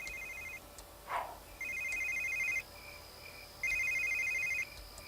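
In The Sims 3, a phone rings in repeated electronic trilling bursts, about three rings separated by short pauses, moderately faint over quiet game ambience.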